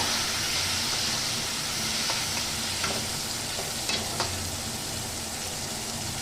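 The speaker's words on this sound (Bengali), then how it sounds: "আমি যে পেঁয়াজ লঙ্কা আর টমেটো মেখে রেখেছিলাম সেটা এর মধ্যে দিয়ে দিচ্ছি প্রথমে একটু নেড়ে নেব" A mix of onion, chilli and tomato stirred in hot oil after fish for a spicy tengra fish dish, a dense continuous sizzle with a few light spatula taps, close and steady, no talking.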